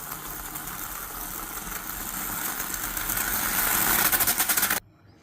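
A Bialetti moka pot on the stove gurgles and sputters as the coffee pushes up, a steady hiss that grows louder and pulses rapidly before cutting off abruptly.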